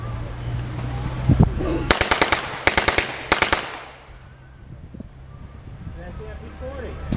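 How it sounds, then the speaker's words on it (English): An MP40 submachine gun fires two or three loud, sharp automatic bursts at an outdoor World War II weapons demonstration, with wind noise and faint crowd sounds between and after the bursts. "Feldwebel Riker, he's going to fire the MP40."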